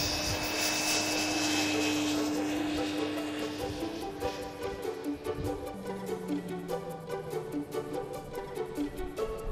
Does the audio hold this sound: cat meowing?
no